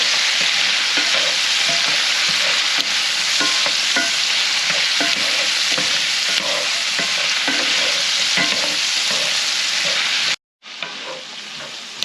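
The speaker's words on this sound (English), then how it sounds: "And then we're going to start sauteing." Food seasoned with garlic powder and paprika sizzles steadily while sauteing in an Instant Pot, with scraping and stirring clicks over the frying, cut briefly near the end before resuming.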